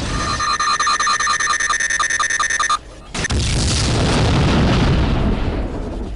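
In the Star Trek Voyager: Elite Force video game, the vinculum is destroyed: steady electronic alarm tones pulse for a few seconds, then a loud, rumbling explosion bursts in and roars on to the end.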